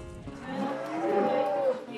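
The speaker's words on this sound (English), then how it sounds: "The cows are coming in for the afternoon milking" Herd of Friesian dairy cows at a western Victoria dairy mooing as they come in for afternoon milking, several long low moos overlapping close by against steady farm background noise.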